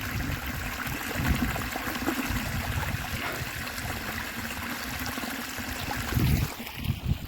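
Water from a farm well pump trickles and gurgles slowly into a field channel close by, a continuous soft stream with occasional low rumbles and splashes, and no voices.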